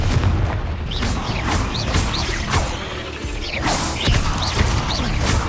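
The Confringo blasting curse in Hogwarts Legacy goes off amid a dense stream of game combat, with repeated sharp blasts and mechanical clanks over a constant loud rumble and no talk.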